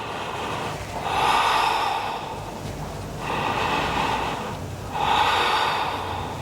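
Heavy breathing during a vinyasa yoga session, three long, loud, rasping breaths spaced about two seconds apart, close and alone with no talk.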